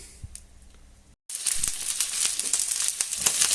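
Garlic and parsley fry in a pan for chicken legs, a steady close sizzle with crackling pops that starts abruptly after a quiet pause and continues alone.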